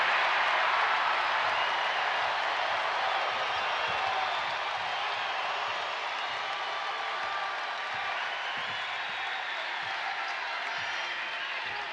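A large home crowd at an Oregon State women's college basketball second-round tournament game against Nebraska, giving steady, dense applause and cheering that holds at an even, full level throughout.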